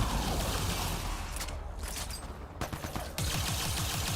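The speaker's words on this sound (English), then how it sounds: "Good thing the beam weapon actually does a lot of damage." A beam weapon fires in a sci-fi shooter game, loud dense crackling bursts with a rapid pulsing stutter, broken by a short dip before the firing resumes, no speech.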